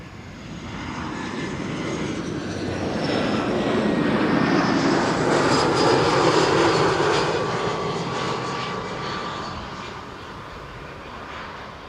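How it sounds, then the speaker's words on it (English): A KLM Boeing 777 arriving at Amsterdam Schiphol Airport from Lima sends a loud jet roar that swells steadily as it approaches, peaks overhead midway, then slowly recedes, with no talk over it. "The next triple is now number 3 for arrival, KLM flight 744, returning from Lima in Peru."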